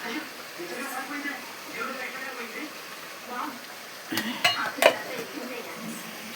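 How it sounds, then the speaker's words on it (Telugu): Tomatoes, onions and green chillies cook in a pan with a soft, steady sizzle under continuous talking. A few sharp clinks of a spoon against the pan come near the end. "ఇగో టమాటా మగ్గుతుంది"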